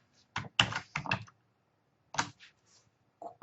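Keys tapped on a computer keyboard to enter a function, a few quick clicks in clusters separated by brief pauses and ending in one firmer keystroke, close and distinct with no talking.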